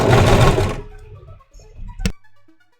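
A sewing machine re-stitches a seam on a costume piece with a short, dense burst of fast motor-driven stitching, close and loud, then stops, followed by quiet handling clicks.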